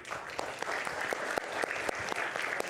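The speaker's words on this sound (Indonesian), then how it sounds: "Kita berikan tepuk tangan untuk Bung Pitra Romadoni" Applause from a studio audience at a televised debate show, a brisk crackle of many hands clapping with scattered sharper claps, moderately loud and continuous.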